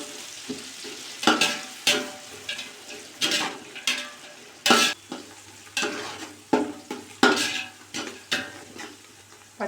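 About 400 grams of sliced onions fry in oil for biryani, with loud, rhythmic stirring strokes scraping the pan over a continuous sizzle, each stroke a sharp burst that fades quickly.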